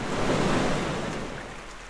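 A wind-like swoosh sample used in music production, a broad rushing noise that swells loudly at the start and slowly fades out, heard alone with no speech.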